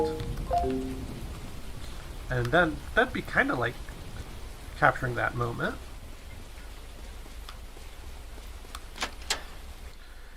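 Steady rain pours in a storm in the video game World's Dawn, a constant hiss beneath someone talking, with faint thunder-like rumbles.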